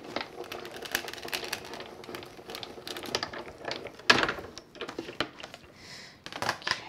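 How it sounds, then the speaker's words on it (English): An embossing folder sandwich with a raspberry adapter plate is cranked through a Platinum die-cutting machine, giving a close run of ratcheting, clicking mechanical gear sounds with uneven bursts. "Put that through the platinum machine."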